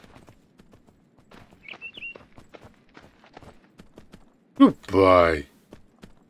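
Horse hooves clop at a steady, fairly faint pace as a tamed horse in Myth of Empires trots off, with someone briefly speaking over it near the end.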